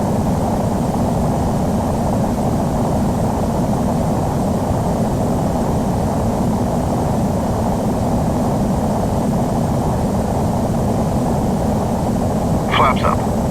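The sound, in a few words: airliner jet engines climbing after takeoff, gear retracting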